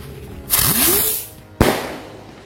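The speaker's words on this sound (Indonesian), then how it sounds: "sekarang kita nyalain mercon Cycle Blitz" A small flying Cycle Blitz firecracker set off for New Year 2023 shrieks with a rising whistle as it lifts off, then cracks once with a sharp, loud bang close by.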